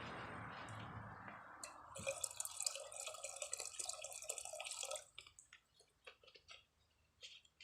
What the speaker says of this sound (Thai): เสร็จแล้วเราก็รดน้ำนะครับ